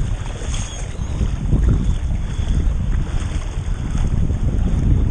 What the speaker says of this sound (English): it's windy and the wind's coming right at us